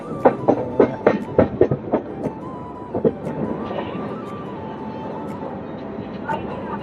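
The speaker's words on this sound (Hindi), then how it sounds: "अपनी दादर एक्सप्रेस निकल चुकी है" The Dadar Jodhpur Express on the move, with a fast clickety-clack of wheels over rail joints at first that fades into a steady rumble and hum inside the carriage, while a voice talks over it.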